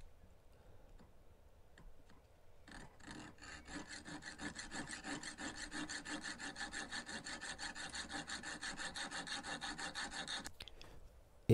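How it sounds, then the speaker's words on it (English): A fret saw cuts through metal stock, starting faintly and then settling into a steady, close, rapid back-and-forth rasping that runs for several seconds before stopping abruptly. "And then cutting it through with a fret saw."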